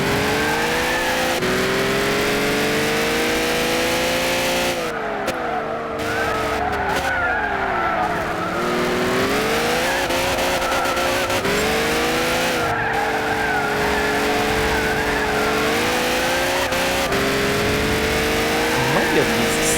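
A racing video game car revs and skids in a long, loud run of engine whine and rising and falling gear pitches, with tires squealing repeatedly throughout and a player talking over it.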